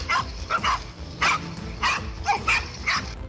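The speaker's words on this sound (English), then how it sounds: "These 5 dogs surround and attack a king cobra." Several dogs attacking a king cobra bark and yip in repeated short, sharp bursts, fairly close and moderately loud, with a low rumbling background between the barks.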